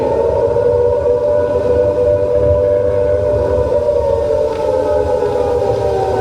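Loud WWII air raid siren wailing over London during the Blitz, a sustained rising and falling tone that fills the whole stretch with no talk.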